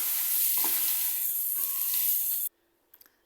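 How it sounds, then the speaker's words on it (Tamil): A green chili fries in a pan with a steady close sizzle and a few stirring scrapes, then the sizzle cuts off abruptly and a few faint clicks follow. "2 மினிட் ஃப்ரை பண்ணணும்."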